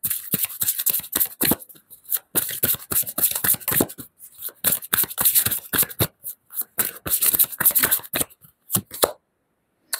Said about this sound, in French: Je vais tirer une carte conseil.